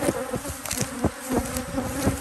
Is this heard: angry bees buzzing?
yes